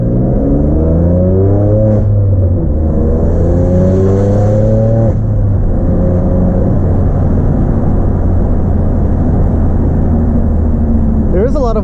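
A BMW M2 Competition's engine pulls hard under acceleration from inside the cabin, a loud droning note that climbs in pitch, eases, then climbs again, with tire and road roar beneath; a voice talks over it.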